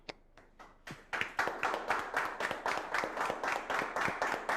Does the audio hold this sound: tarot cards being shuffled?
no